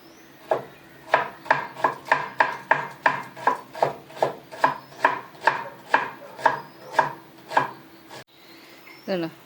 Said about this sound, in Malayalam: നമുക്ക് ഇത്തിരി സാലഡ് കൂടെ അരിഞ്ഞെടുക്കാം കേട്ടോ